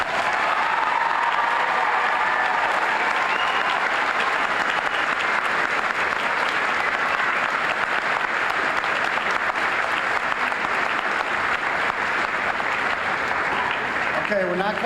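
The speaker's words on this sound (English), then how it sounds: "Shall we give them one more round of applause?" Long, sustained applause for graduates at a college commencement ceremony, a large crowd clapping steadily and densely from start to finish, with faint crowd voices mixed in.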